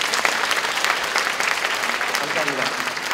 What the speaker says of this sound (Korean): 그럼 박수 한번 크게 쳐주시죠.